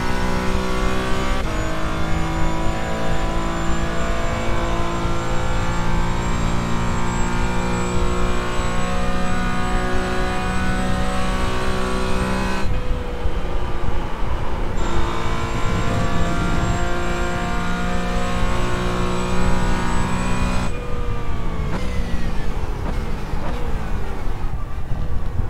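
Race car engine of a Mazda or Porsche GT4 in the iRacing video game at Spa-Francorchamps, a loud sustained whining drone with shifting pitch as the car accelerates and changes gear along the track.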